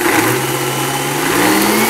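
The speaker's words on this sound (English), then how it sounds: "Now, let's blend." A blender grinds dried moringa leaves into powder, a loud continuous motor whir with a steady pitch that climbs slightly near the end, with no voices.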